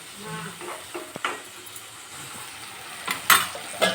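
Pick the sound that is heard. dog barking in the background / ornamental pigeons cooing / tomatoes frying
tomatoes frying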